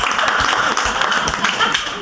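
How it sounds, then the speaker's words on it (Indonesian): Clapping from an audience at an Indonesian table-talk business gathering, a loud burst of many hands mixed with talking and voices throughout. "Tepuk tangan dulu."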